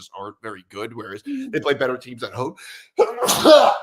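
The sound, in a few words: sneeze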